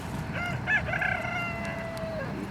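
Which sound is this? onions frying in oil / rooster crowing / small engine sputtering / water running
rooster crowing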